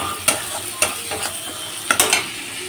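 Turmeric and Kashmiri chili fry in a pan with a soft sizzle, punctuated by a few sharp scrapes and clinks of stirring, close and clear with no talking.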